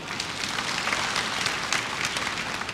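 Congregation applause during a church worship service: a steady wash of many hands clapping together, dense and even, sustained for a few seconds with no voices on top.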